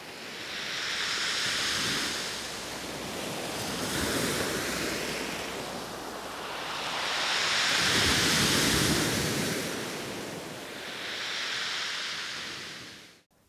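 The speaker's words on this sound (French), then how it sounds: "le son sonore que vous attendez des vagues" Ocean waves at a port surge and wash in broad rolling swells, steady and fairly close, with a constant roar of surf and some wind through the whole stretch, no voices.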